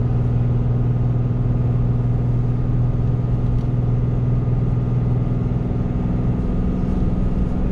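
Ram pickup truck engine pulling a load of almost 20,000 pounds in third gear on 35-inch tires, a loud, steady low drone with a strong constant tone and a faint rise toward the end.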